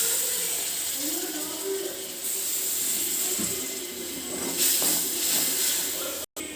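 Vinegar poured into a hot pan for an ambazhanga (hog plum) pickle, a rising hiss and steamy sizzle that swells near the end, followed by a brief sharp click.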